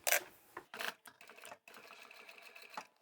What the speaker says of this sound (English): Let's go and sew up both of these long edges.